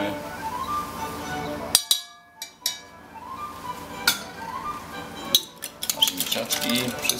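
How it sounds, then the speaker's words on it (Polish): Shrimp cocktail ingredients are mixed together in a bowl, a utensil scraping, clinking and knocking against the sides in bursts separated by short pauses, fairly close and loud. "wszystko razem pięknie mieszamy"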